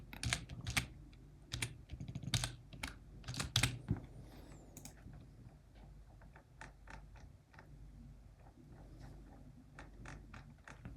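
Rapid keystrokes on a computer keyboard, loud and clustered in the first few seconds, then lighter scattered taps continuing alone, with no talking.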